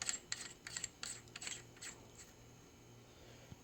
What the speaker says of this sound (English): just take the tall turret cap, screw it on there